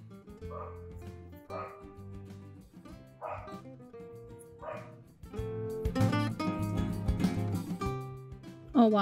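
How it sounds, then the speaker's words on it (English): Dogs barking, yipping and whimpering at a rabbit outdoors, heard at a distance in short repeated bursts, with a few louder yelps toward the end. "Apologize for the barking in the background."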